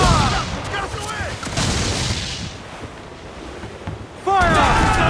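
Naval cannons booming across open water in Assassin's Creed 4 Black Flag, loud blasts at the start and again near the end with sea and wind noise between, shouted voices over the action.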